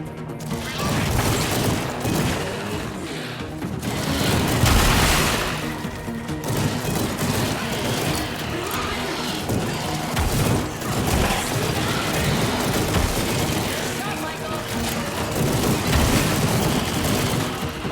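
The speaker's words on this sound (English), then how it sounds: "This charging creates a satisfying oomph that makes the weapons feel impactful" Weapons fire in the VR zombie shooter After The Fall, with repeated heavy shots, crashes and booming impacts forming a continuous loud, chaotic barrage throughout.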